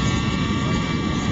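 A Raptor 60 radio-controlled model helicopter flies close by, producing a loud, steady engine whine layered over a constant rotor drone that fills the brief moment without pause.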